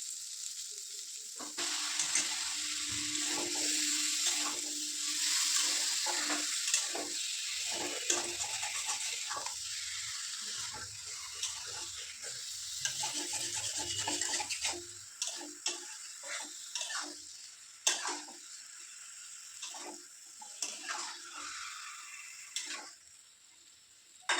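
Loitta fish and potatoes fry in oil with a loud, continuous close sizzle, then the hiss thins out and is broken by repeated scraping and clinking stirs in the pan.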